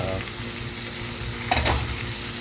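Two chopped tomatoes sizzle and fry in a hot pan as they cook down into a paste, a steady crackling hiss with a brief louder stir or scrape midway.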